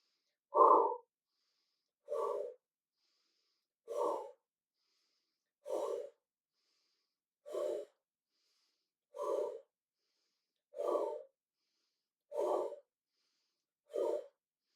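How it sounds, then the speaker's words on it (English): Qi gong fire breathing, in through the nose and out through the mouth. Nine forceful, close breaths come at a steady, even rhythm about every second and a half, with silence between them and no talk. "Start with the fire breathing, in through the nose, out through the mouth."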